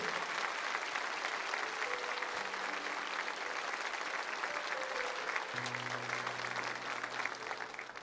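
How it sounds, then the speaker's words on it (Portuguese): A church congregation applauds during Mass, steady sustained clapping from many hands filling the room, with faint organ or keyboard tones sounding underneath and tapering slightly near the end. "Aplaudamos a palavra do Senhor."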